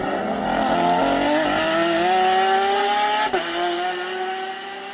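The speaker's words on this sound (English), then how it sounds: "the Porsche 911 RSR is still the best sounding car in the world" A Porsche 911 RSR race car at Le Mans roars loudly and close, its engine note climbing steadily in pitch as it accelerates, with a brief sharp dip near the end.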